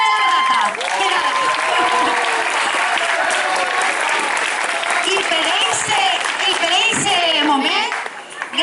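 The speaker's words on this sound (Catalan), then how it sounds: "Un aplaudiment." Crowd applause at a morning commemoration ceremony in Valencia, loud sustained clapping with children and adults talking through it.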